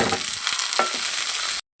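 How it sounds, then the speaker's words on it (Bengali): Cut potatoes fry in hot oil tempered with radhuni, a dense and fairly loud sizzle with a few soft stirring knocks. It stops abruptly near the end, and no one talks. "এবার কেটে রাখা আলুগুলো দিয়ে দেবো।"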